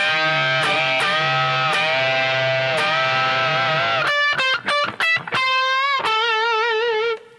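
A distorted electric guitar plays a bluesy lick from a guitar solo, with sustained pre-bent notes, then a quick run of short choppy notes ending on a long vibrato-laden tone.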